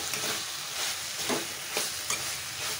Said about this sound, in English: Stir this well.